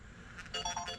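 A telephone ringtone sounds quietly, a short electronic tone pattern with a few pulsed notes, faint and somewhat distant in a quiet room.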